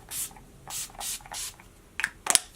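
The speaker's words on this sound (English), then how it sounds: "Last spray I'm using is the 10 Years Younger finishing spray." Several short spritzes of 10 Years Younger makeup finishing spray, close and quiet: four soft hissing bursts, then two quicker sharper puffs near the end.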